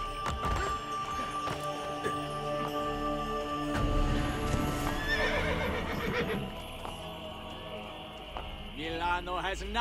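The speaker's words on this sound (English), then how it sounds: "No, I did not want to call the horse." A horse whinnies over a busy Assassin's Creed Brotherhood game soundtrack of music and effects, with hoofbeats clattering along beneath.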